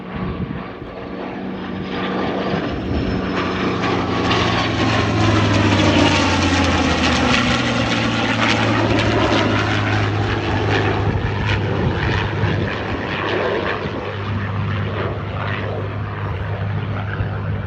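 Propeller-driven aircraft of an Air Force Heritage Flight pass overhead at an air show, the engine drone swelling loud as they approach, sweeping past, then fading while still audible, with no talk over it.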